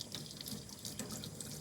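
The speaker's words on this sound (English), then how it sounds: "I'm also going to take my sponge underneath the water" Running tap water streams over a sponge being rinsed of acrylic paint at a sink, a short, continuous splashing rush with small droplet spatters, close and moderately quiet.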